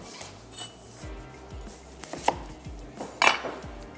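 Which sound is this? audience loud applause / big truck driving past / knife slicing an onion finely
knife slicing an onion finely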